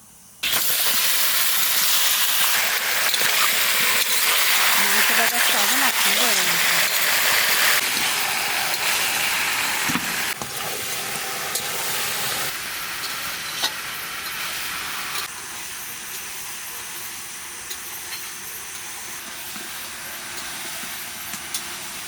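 Onions sizzling steadily in a hot pan for a curry, with chicken pieces about to go in; a loud, continuous frying hiss that thins and changes texture partway through, with occasional stirring scrapes and no talk.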